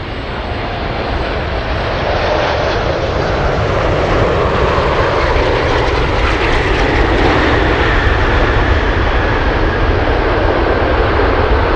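A large aircraft rolls along runway 15 at Anchorage airport on a windy day, its jet engines producing a loud, broad roar that builds slightly and holds steady for about twelve seconds with no voices.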